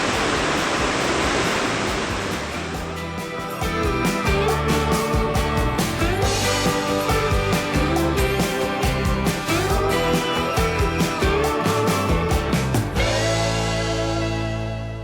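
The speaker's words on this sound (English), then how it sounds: "The creek behind our campsite was almost deafening." A loud creek rushes right behind a backcountry campsite in Idaho, a dense, steady roar of flowing water that fills the whole scene and barely changes in level throughout.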